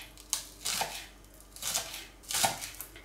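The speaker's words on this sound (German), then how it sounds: "Am besten ist alles schön klein schneiden" A knife chops garlic and dill finely on a cutting board, giving quiet, close bursts of quick rhythmic strokes separated by short pauses.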